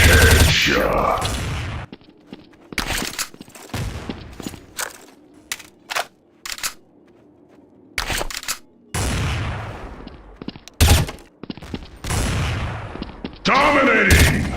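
Rapid bursts of video game gunfire, sharp and loud, come in clustered volleys separated by short gaps, with a voice speaking briefly over some of the shots.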